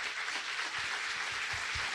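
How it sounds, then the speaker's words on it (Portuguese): A church congregation applauds steadily, dense overlapping clapping filling the room for the whole moment. "Aplauda bem forte ao Senhor."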